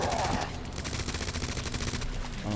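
Rapid, continuous gunfire in the zombie survival game Resident Evil 2 Remake, loud and dense for the whole stretch, with a voice faintly mixed in.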